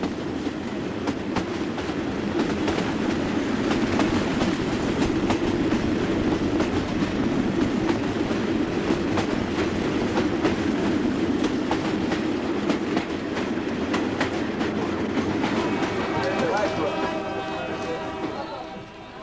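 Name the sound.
passenger train running through swamp country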